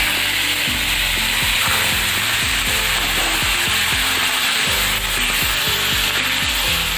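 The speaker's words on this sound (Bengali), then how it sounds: "সেটা আমি এখন ভেজে নিচ্ছি।" A fish head coated in salt and turmeric frying in hot oil in a wok, giving a loud, continuous sizzle and crackle broken by repeated scraping strokes, with no voices.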